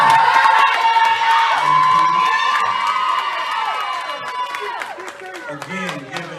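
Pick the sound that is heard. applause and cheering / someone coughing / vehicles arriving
applause and cheering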